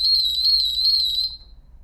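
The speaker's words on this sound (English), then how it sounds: "I can change the center frequency of the alarm below that." A ColorAlti 3 altimeter sounds its alarm: a single steady electronic beep, loud and close, held for about one and a half seconds before cutting off, with no voices.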